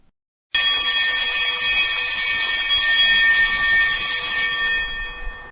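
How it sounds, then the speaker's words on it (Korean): A loud, continuous high-pitched electronic alarm starts abruptly after a brief silence and sounds steadily for about five seconds. "화재 경보기가 울렸습니다."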